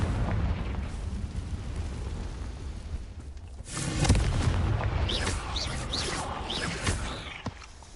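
A Confringo fire spell blast in the Hogwarts video game, a rumbling burst swelling at about four seconds over steady game ambience and lingering briefly, with no talking.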